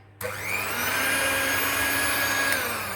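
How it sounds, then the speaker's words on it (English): An electric cake beater creams margarine and sugar in a bowl on a low setting, starting abruptly after silence and holding a steady, close, whining motor hum with whirring tones, no voice over it. "With the electric cake beater, I am going to cream the margarine and the sugar together"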